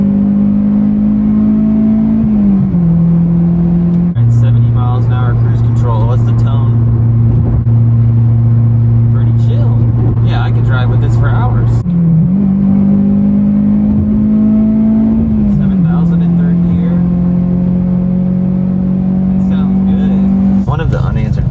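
A Honda Civic Si with an Invidia catback exhaust cruising on the freeway at 70 mph on cruise control: a steady, loud exhaust drone heard from inside the cabin, with its pitch dipping and rising a few times.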